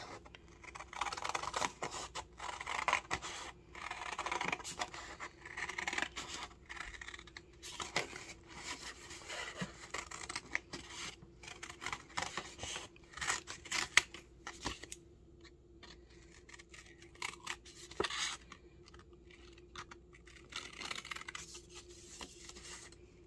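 Scissors cutting paper for a children's craft, intermittent quiet snips and paper rustling close by over a long stretch without speech.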